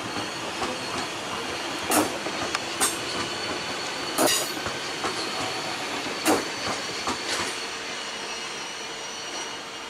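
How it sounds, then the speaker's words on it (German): An ICE 4 train passes through Würzburg Hbf station with a steady broad rolling roar and hiss, plus scattered wheel squeals and sharp clicks over rail joints. It is heard from a moderate distance, with no talk. "Das war ein namenloser ICE4."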